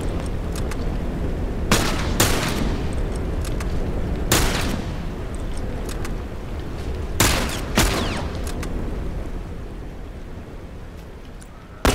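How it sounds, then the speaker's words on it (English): Gunfire in The Last of Us Remastered at a dam, with sharp 9mm shots cracking out in several separate bursts over a constant gritty background rumble, loud and close. "Two 9mm shots in this guy's armor up here."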